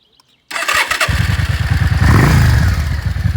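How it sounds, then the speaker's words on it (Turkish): A Yamaha Dragstar XVS 650 Classic motorcycle engine cranks and catches after a brief quiet moment, then settles into a loud, close, throbbing idle with a slight rise in revs. "Ve marşına basıyoruz."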